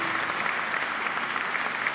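Audience applause in a hall during an Italian live show, a steady dense wash of many hands clapping with no voices over it.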